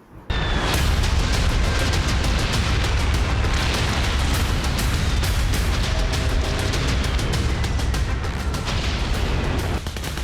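Wartime explosions and heavy booming blasts rolling one into another as a dense, loud, continuous roar of bombardment, with sharp crackling bursts layered on top throughout.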